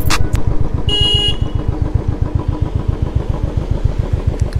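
A motorcycle engine idles close by on a mountain road in Solang Valley, Manali, with a loud, steady low thumping pulse throughout and a brief high whine near the start.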